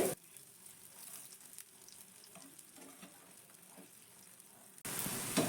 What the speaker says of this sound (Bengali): এই টিফিনগুলো ভাজার সময় কিন্তু গ্যাসের ফ্লেমটা একদম হাইতে রেখেই ভাজবে